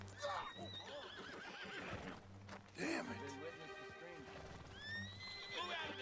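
Horses in Red Dead Redemption 2 whinny loudly and their hooves clip-clop. The sounds are close, with someone talking over them.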